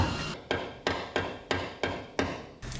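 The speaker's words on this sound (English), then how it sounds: "down here I kind of tap that piece in to follow along that edge better" A hammer taps a flat sheet metal cowl piece into place on a 1967 Toyota Stout, seven sharp, evenly spaced metallic blows, each ringing briefly before the next, no talk.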